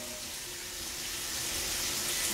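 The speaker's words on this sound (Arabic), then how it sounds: "احول من الصباط للهاند شاور" A hand shower sprays a steady hiss of running water in a bathroom with newly finished plumbing. The flow is continuous and close, and it swells slightly toward the end.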